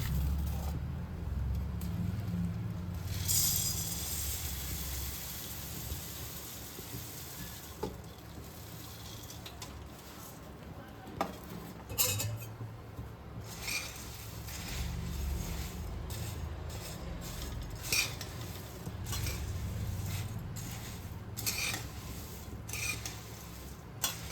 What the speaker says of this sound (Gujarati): ધીમી આંચ ઉપર આ રીતે આપણે બધા ઉમરા શેકી લઈશું